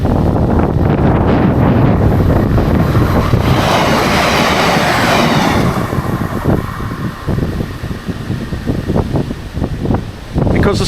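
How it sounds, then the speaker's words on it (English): A mail train rumbles past nearby, loud and continuous, with rhythmic clacking toward the end, all under heavy wind buffeting the microphone. "A train's just coming."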